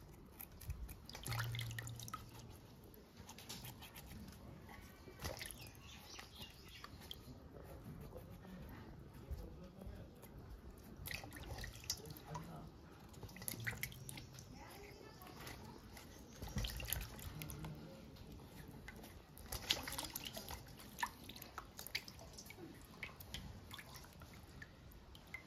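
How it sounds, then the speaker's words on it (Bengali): Water runs and drips steadily from a tap while new potatoes are rinsed clean of sand in a kitchen sink, with faint splashes throughout. "নতুন আলুতে বালি আছে, ভালো করে না ধুয়ে নিলে পরে সবজি বেকার হয়ে যাবে।"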